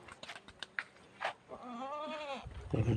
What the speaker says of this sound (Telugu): ఇవన్నీ మేకలండి